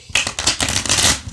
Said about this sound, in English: So you're gonna get the cards nice and shuffled.